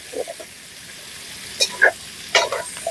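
Sliced onions frying in a generous amount of oil over medium heat, a quiet steady sizzle broken by a few sharp spatula scrapes and clinks, close by.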